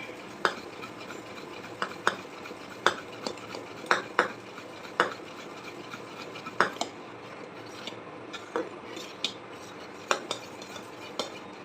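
Melting sugar being stirred in a pan for a mango dessert: a utensil clinks and scrapes against the metal at an irregular, steady rhythm, close and fairly soft, with no talking.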